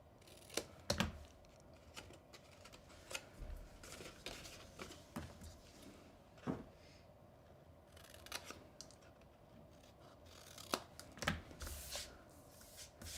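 Scissors snip miter cuts into the paper tabs of an envelope-style gift box, a string of sharp, close, separate crisp cuts spaced irregularly, with soft paper rustling and handling between them.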